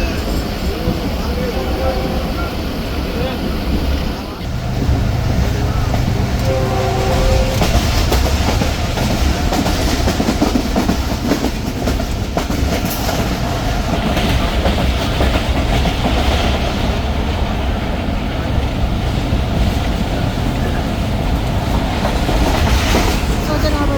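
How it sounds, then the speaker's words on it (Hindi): The Subak Raftar morning railcar train between Lahore and Rawalpindi runs on the rails with a loud, continuous clickety-clack and rumble throughout, and a voice talks over it. "क्योंकि मॉर्निंग ट्रेन होती है तो ऑलमोस्ट ऑन टाइम ही ये लाहौर पहुंचती है"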